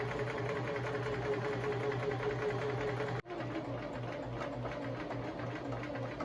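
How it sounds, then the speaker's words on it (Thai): A sewing machine runs steadily while stitching a Halloween costume, its fast, even mechanical whir holding almost unbroken except for one brief stop near the middle, close and fairly loud with no voices. "นางเย็บชุดเองจ้ะ"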